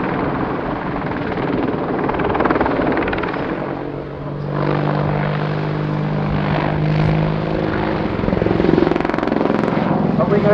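A British Army AgustaWestland Apache helicopter flies a display at RIAT 2019, its loud, steady rotor and engine roar holding through a high hover while an announcer talks over it.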